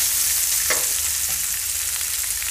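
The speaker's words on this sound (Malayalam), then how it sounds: "നമ്മൾ എടുത്തു വെച്ചിരിക്കുന്ന സവാളയും കൂടെ ഇട്ട് കൊടുക്കണം എന്നിട്ട് നന്നായിട്ട് ഇനി യോജിപ്പിക്കാം" Chopped onion and curry leaves sizzle steadily in a hot pan, a loud, constant frying hiss with a couple of brief scraping stirs and no talk.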